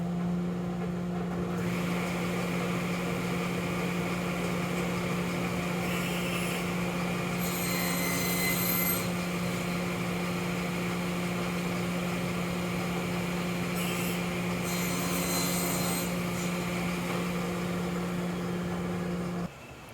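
Grizzly G0623x sliding table saw running with a steady motor hum while cross-cutting ash, with two brief brighter surges as the blade bites into the wood, close and loud without talk.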